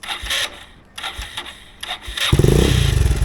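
A motorcycle engine is started: a few scraping, clattering cranking attempts, then the engine catches at about two seconds in and settles into a loud, close, steady pulsing idle.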